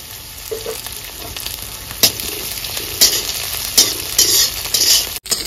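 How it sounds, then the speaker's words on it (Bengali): Curry leaves and green chilies fry in hot oil, crackling loudly up close, while a utensil stirs and scrapes the pan in a few sharp strokes. "এখানে কারি পাতা আর কাঁচা লঙ্কাটা খুব ভালো করে ভেজে নিয়েছি।"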